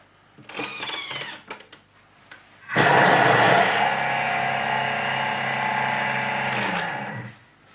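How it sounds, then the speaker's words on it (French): Thermomix blending lemon juice and other ingredients at speed 5, a steady loud whirring motor for about four and a half seconds that starts abruptly and cuts off, after some lighter clicks and kitchen handling. "Et on va mixer 3 secondes, vitesse 5."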